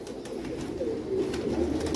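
Pigeons in a breeding pair's loft coo in a low, steady murmur that runs throughout, with no voices.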